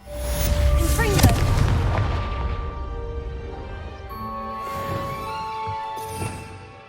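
A Confringo blasting spell explodes against pumpkins in Hogwarts Legacy, a loud booming burst near the start that trails into crackling debris and ringing magical tones, with a second fainter impact later.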